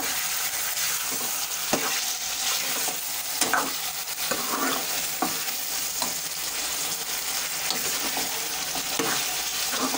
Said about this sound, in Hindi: अब हम इसमें फिर से चम्मच हिलाएंगे ऐसा ताकि नमक जो है वो इसमें मिक्स हो जाए